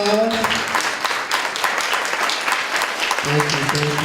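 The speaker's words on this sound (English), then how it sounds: "Give our panelists warm applause." Audience at a lunchtime panel on transgender visibility gives the panelists a warm round of applause, steady clapping that follows a voice and runs under another voice speaking at the end.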